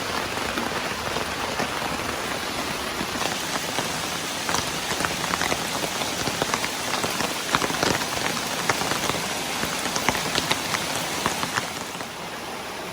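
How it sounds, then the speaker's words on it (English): Rain falls steadily on a camping tent during a motorcycle camping trip, making a dense, even patter of drops close overhead with no voices. "So I guess we'll see how this tent does in the rain."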